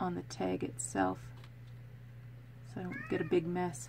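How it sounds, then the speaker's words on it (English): A male cat meows twice in a craft room, short clear cries heard near and between a woman's speech. "That's the cat meowing."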